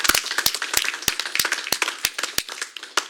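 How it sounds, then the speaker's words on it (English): A small group claps for an award recipient at a community live-streamed event, with sharp, distinct hand claps rattling unevenly and close for a few seconds. "Round of applause."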